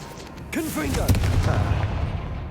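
A voice calls out briefly, then a Confringo blasting spell in the Hogwarts Legacy video game explodes with a loud, rough burst that rumbles on to the end.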